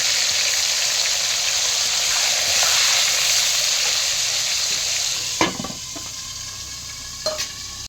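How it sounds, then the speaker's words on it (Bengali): Bitter gourd frying in hot oil as it goes into the pan, a loud, bright sizzle that gradually eases, with a few stirring clatters near the end. "এবার আমি উচ্ছে দিচ্ছি, করলা দিচ্ছি।"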